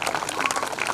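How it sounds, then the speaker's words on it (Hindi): Parents in an audience at a school annual prize-distribution function break into applause, a dense, even patter of many hands clapping throughout, slightly distant. "अगर वालिदैन मेरी बात से मुतफिक हैं तो प्लीज़ तालियां बजा दें"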